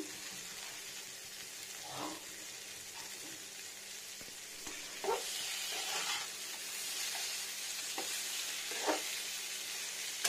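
Pumpkin stalks, chana dal fritters and potato sauté in a pan over medium heat, giving a soft steady sizzle with occasional faint scraping and stirring sounds.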